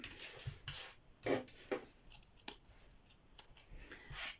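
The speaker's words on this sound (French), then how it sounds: "on va venir couper les excès de fermeture éclair" Scissors snipping through the excess ends of a zipper on a fabric school pencil case being sewn, a few quiet crisp cuts with soft handling rustle between them.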